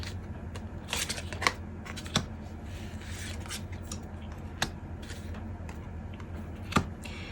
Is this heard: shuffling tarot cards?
yes